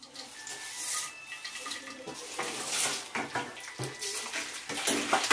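Tempering spices for poha pulihora, with chana dal, dried red chilies, curry leaves and green chilies added one after another to hot oil, giving a fluctuating sizzle with occasional clinks of a utensil against the pan.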